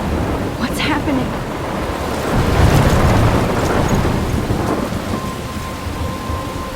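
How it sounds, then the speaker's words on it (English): Thunderstorm in the video game Life Is Strange: steady heavy rain hiss with rolling thunder swelling in the middle, a few sharp crackles early on, loud and continuous throughout. "I'm trapped in a storm?"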